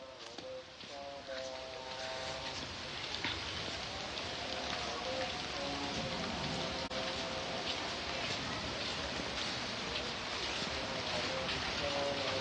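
Steady rain falls and patters on surfaces close by, a dense continuous wash across the whole stretch, with a voice talking faintly underneath.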